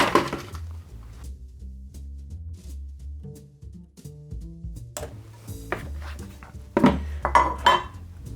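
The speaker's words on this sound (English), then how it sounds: "So first thing we're going to do is grab some ice." Ice cubes dropped and scooped into a cocktail glass for an elderflower strawberry spritz, a series of sharp clinks and rattles against glass with pauses between, close and clear.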